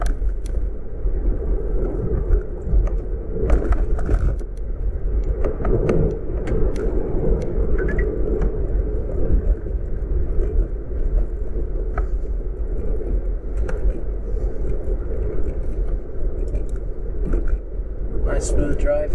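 A Tesla running FSD 12.3 drives on a road at dawn, with a steady low interior road rumble and faint tire hum throughout, and a voice talking over it.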